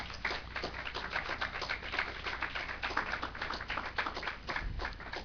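A church congregation claps in a steady, even rhythm throughout, muted and somewhat distant, with no one talking over it.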